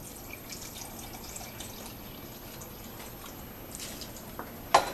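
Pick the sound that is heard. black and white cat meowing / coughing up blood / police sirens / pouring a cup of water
pouring a cup of water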